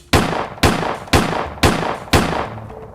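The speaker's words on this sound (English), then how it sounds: "Multiple gunshots rang out." Five loud gunshots go off in a steady sequence roughly half a second apart. Each is a sharp crack with a short decaying tail, at close range and with no voices.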